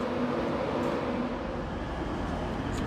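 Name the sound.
Class 91 train on the mainline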